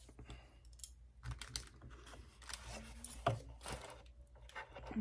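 Scissors cutting paper for a pressed leaves card, a run of close, crisp snipping and rustling cuts in an irregular rhythm, quiet and alone with no talk.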